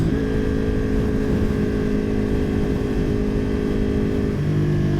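A 2020 Ducati Panigale V2 motorcycle engine hums steadily on the road, a loud, even drone with wind rush and no throttle change.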